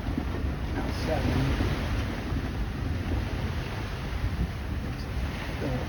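Steady strong wind roars over a sailboat underway at sea between Rock Sound, Eleuthera and Highborne Cay, Exuma, with constant rushing buffeting and water noise and no clear voices.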